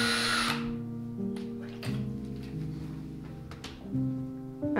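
Tiny hooks being screwed in with a small power drill, which gives a close whine that rises and falls in pitch and stops and starts in short bursts.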